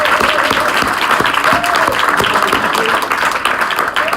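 Loud, dense applause from a large crowd, continuous clapping with some voices underneath throughout.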